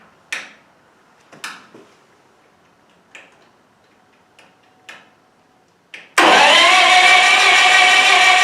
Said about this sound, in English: let's try out this new starter that we got and see if this sucker cracks over